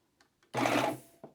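Air-threading serger overlocker firing up after threading, giving a single brief mechanical whir of about half a second, close and fairly quiet, framed by faint clicks.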